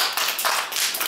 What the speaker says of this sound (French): Est-ce qu'on applaudit Annie?